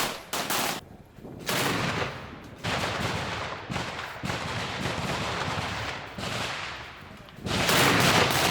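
Bursts of gunfire and machine-gun fire crackle through ongoing fighting in Kharkiv, with dense overlapping shots and short pauses between volleys, loud and sustained across the scene.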